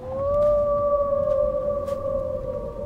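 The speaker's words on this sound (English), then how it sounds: "the fox howls at them" Fox howling in the film The Green Knight, a single sustained mournful tone that rises slightly then holds steady for nearly three seconds against a low background rumble.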